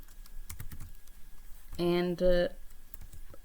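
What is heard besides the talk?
typing code on a computer keyboard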